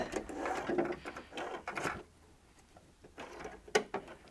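A home sewing machine stitches a four-step buttonhole in short whirring bursts, with a quiet pause in the middle before a final run of stitches.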